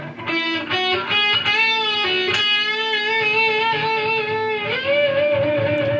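Distorted electric guitar lead phrase, sustained notes bent up a half step with vibrato, then a slide and a full-step bend held with wavering vibrato, played alone.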